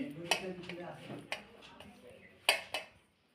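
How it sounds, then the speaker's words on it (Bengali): Metal utensils clink and scrape against dishes a few times, with soft talking in the background, as hot rice is served onto a plate. "গরম গরম ভাত প্রথমেই বেড়ে নিই"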